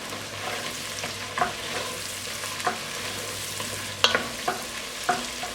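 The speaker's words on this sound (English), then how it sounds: "I'm going to add the garlic. We'll stir that up till it's fragrant." Garlic and celery in browning butter sizzle steadily up close, and a spoon scrapes and taps the pan in irregular stirring strokes every second or so, with no talking.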